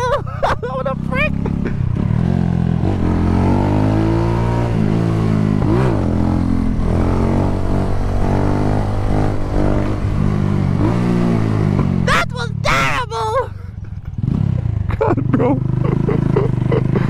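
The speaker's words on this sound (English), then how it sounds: "that was a terrible wheelie, bro" A motorcycle doing a wheelie on a community street in Jamaican bike life, with a loud close engine roar holding steady before fading, while people shout and talk over it.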